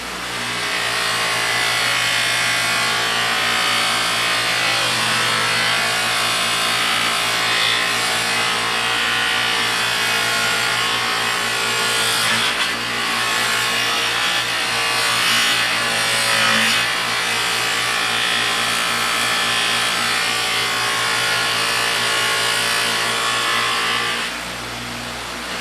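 An Opel GT gas cap is buffed with buffing compound on a spinning wheel, a loud, continuous motor drone with a rubbing hiss that holds steady for about 24 seconds before easing off.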